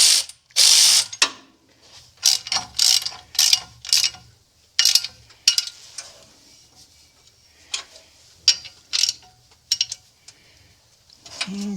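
Ratchet clicking in short repeated bursts while tightening a bolt on a Cadillac 472 engine, close and crisp with brief pauses between strokes.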